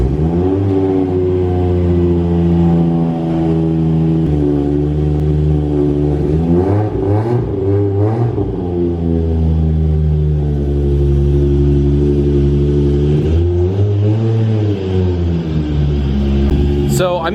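A Toyota Supra's engine and exhaust warm up at close range, a loud steady rumbling idle with several rising blips and swells of revving throughout, no voices.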